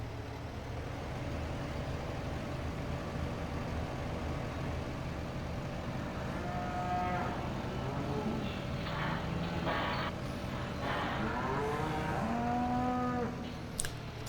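Cattle low repeatedly inside a barn in Farming Simulator 15, several long moos overlapping in the middle and end, moderately close over a steady engine rumble with no talk.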